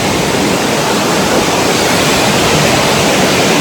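Rushing water flowing near a waterfall amid green countryside in Sligo, a loud, steady, dense roar of torrent filling the whole moment without pause.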